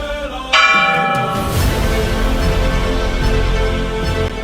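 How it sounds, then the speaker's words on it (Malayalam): The Padmanabhaswamy Temple clock bell, installed in 1840, rings on the hour when a bearded human figure and two ram figures strike it: one loud, close metallic strike rings out and decays slowly over a steady background wash. "ഓരോ മണിക്കൂർ ഇടവിട്ട് ഈ 2 ആടുകളും ഈ മനുഷ്യരൂപത്തിൽ കൂട്ടിമുട്ടും. ഇതിന്റെ ഫലമായി ഒരു മണിമുഴക്കം ഉണ്ടാവും."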